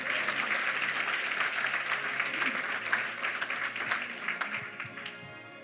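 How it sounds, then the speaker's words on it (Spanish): A church congregation in Miami applauds during a Spanish-language service, sustained clapping filling the room at a moderate distance, with a voice faintly underneath. "Aplauda al Señor."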